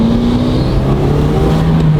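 A Subaru WRX engine with its stock exhaust revs with a low, droning exhaust note, a rising and falling tone holding steady and close, fairly loud.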